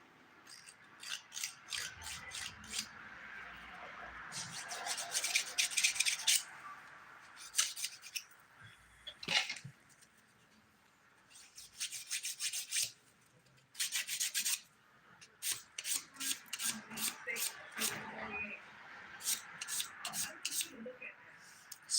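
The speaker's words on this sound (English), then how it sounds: "Let's start our filing process now. Using a 100 by 180 grit file." A 100/180 grit nail file rasps across nails in quick bursts of short back-and-forth strokes, close and crisp, with pauses between passes.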